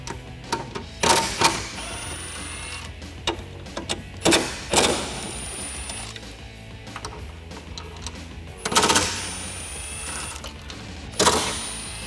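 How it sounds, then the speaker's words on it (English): A 13mm socket on a ratchet works loose the bolts holding a Jeep Wrangler JK spare tire carrier, giving sharp metallic clicks and ratcheting bursts in several clusters, close and fairly loud, with no talking. "we can go ahead and start removing the bolts that are holding on our spare tire carrier"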